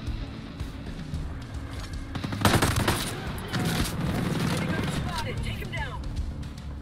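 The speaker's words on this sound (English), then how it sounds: "this is why I brought a light machine gun to this party. Because when you need fire superiority," Light machine gun fire in the tactical shooter Rainbow Six Breakpoint, sustained bursts of automatic gunfire rattling loudly amid battle noise, with voices speaking over parts of it.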